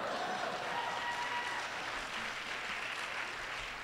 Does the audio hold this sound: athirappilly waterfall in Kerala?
no